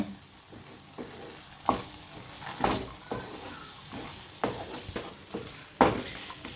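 Green peas being stirred into sautéed onions in a hot pan, a steady sizzle broken by repeated scraping stirs of a spoon against the pan, close and fairly loud.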